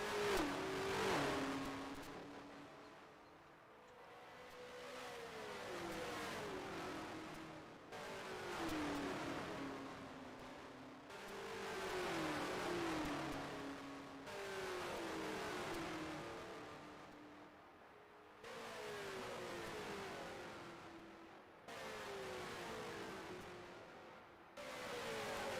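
Race cars battle at the 1974 USAC Schaefer 500 oval race, engines roaring loudly in repeated waves as cars pass one after another, each pass rising and falling in pitch, with no talk.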